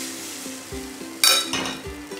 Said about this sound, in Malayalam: ഇനി നമുക്ക് ഈ കൂട്ട് ഇതിലേക്ക് ഒഴിച്ചു കൊടുക്കാം